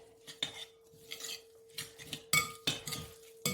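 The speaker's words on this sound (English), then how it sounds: "Yes, we mix all of this together." Curry ingredients with vegetable oil are mixed together in a bowl for a microwave spinach, sweet potato and chickpea curry, giving quiet, close clinks and scrapes of a utensil against the bowl in uneven strokes.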